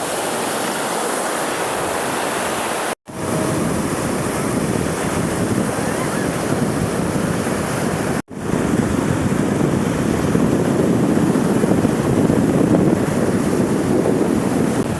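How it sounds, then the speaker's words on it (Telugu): Ocean surf rolls in continuously at Panambur beach in Mangalore, a loud, close roar of breaking waves mixed with heavy wind buffeting on the microphone and two brief dropouts. "మంగళూరులో ఇది పనుమూరు బీచ్ ఈ పక్క మాత్రం మనుషులు మునుగుతారు"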